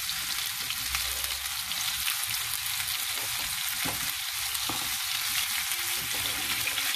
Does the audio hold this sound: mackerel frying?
yes